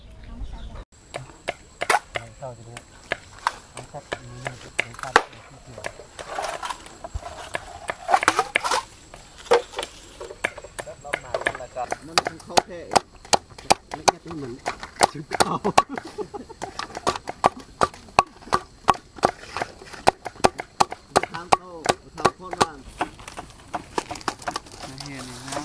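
Villagers chop wood while building a house in a rural Thai village, with sharp irregular blows landing repeatedly over about 25 seconds, close and loud, under ongoing talk and background activity.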